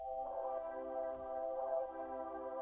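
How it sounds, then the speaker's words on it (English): Lo-fi keys pad preset called Appreciation from Analog Lab 5, a free bank, holding a steady sustained chord with soft swelling attacks, alone and fairly quiet. "picked out this pad called Appreciation, and it's actually a lo-fi keys"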